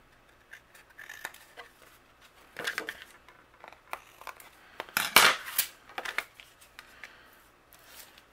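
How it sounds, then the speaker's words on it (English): Scissors snip away excess paper around a die-cut piece for a handmade card in a run of quiet, close, irregular cuts, with light paper rustling between them and no talk. "and then I'll trim away the excess here."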